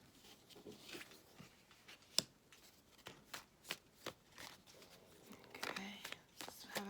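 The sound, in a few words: shuffling tarot cards to draw a card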